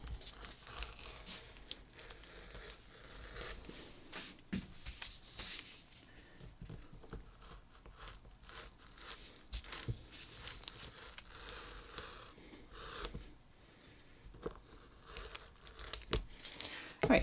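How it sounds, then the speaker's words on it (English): A rotary cutter slices through fabric to cut out pattern pieces for a bathing suit shelf bra, giving soft, close crinkling and scraping strokes that come in irregular bursts throughout. "now I'm just gonna use my rotary cutter and cut this out"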